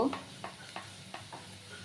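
Onions browning in a pan with turmeric and chili powder, a faint steady sizzle broken by several soft spoon stirs and scrapes at a regular pace.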